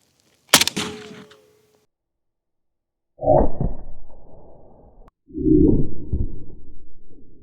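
A single sharp AK-74 rifle shot into a wooden poplar log cracks out and rings briefly, followed after a pause by two longer bursts of rumbling, rustling noise.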